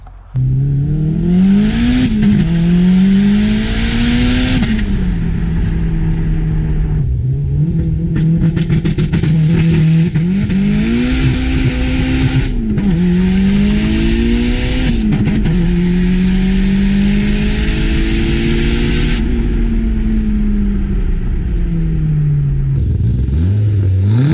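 A Mitsubishi Galant VR4 with 240,000 miles runs loud and close, its engine revving and accelerating in repeated rising pulls and shifts, steady and unbroken, with no talking.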